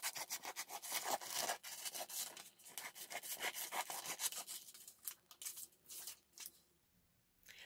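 Scissors snipping through a photo print for a collage, trimming out just a cheek section, with a steady run of close, dry cutting and rubbing strokes that thin out into sparse snips near the end.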